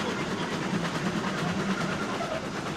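A locomotive pulls out with a steady rolling rumble and a faint rhythmic clatter of wheels, running at an even, fairly loud level throughout with no voices.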